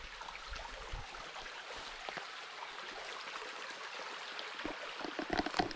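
A small river in rural Asturias flows with a soft, steady rushing hiss, faint and continuous throughout, with no voices over it.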